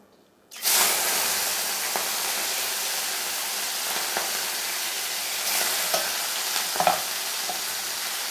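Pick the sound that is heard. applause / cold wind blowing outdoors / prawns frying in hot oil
prawns frying in hot oil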